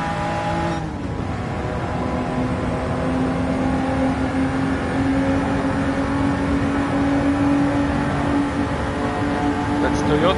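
Race cars in the Gran Turismo 7 video game, including a Toyota Supra, hold a steady droning engine whine with gear shifts and a passing pitch change, continuous and loud with a voice commenting over it.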